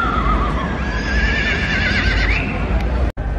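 A horse at a busy horse market gives a long, loud neigh with wavering whinnying tones, heard up close over crowd murmur and background bustle.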